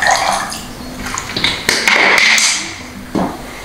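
Vinegar pours into a chicken marinade in a home kitchen, a close, splashy liquid trickle with small drips and a few light knocks, heard alone.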